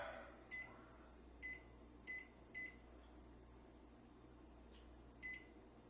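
A kitchen timer set for baking corn bread gives short, faint electronic beeps, about six over several seconds, over a steady low appliance hum.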